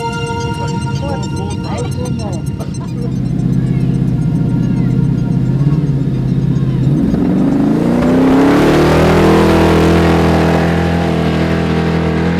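A car engine revs up, its pitch climbing and swelling loud midway before settling into a sustained high drone, with a layered musical or voiced bed underneath.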